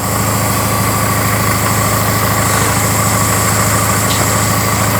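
A Fiat Seicento engine idles steadily at normal operating temperature, a continuous low rumble with a faint higher whine, close and fairly loud, with no voices.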